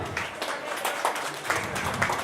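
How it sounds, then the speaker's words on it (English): An audience claps for Justice A.M. Ahmadi, former Chief Justice, at a law graduates' conclave. The applause is a steady, fairly soft broadband patter that holds throughout the hall with no voices over it. "A round of applause, please."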